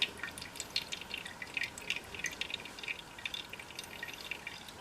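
Fuel leaking from an unclamped fuel line into an old engine's carburetor, a rapid, steady patter of small drips with a faint hiss of running liquid, close and continuous.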